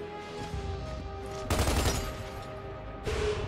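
Pistol shots in Gears of War 2, two sharp, loud bursts of gunfire cracking out over a steady low game hum, the first in the middle and the second near the end.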